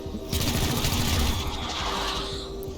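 Gunfire from a pistol aimed at the Necromancer in XCOM Chimera Squad, a burst of sharp rapid cracks in the first half over a steady game hum, fading into a lingering rumble.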